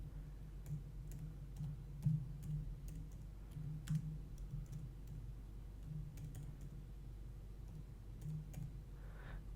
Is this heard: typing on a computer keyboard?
yes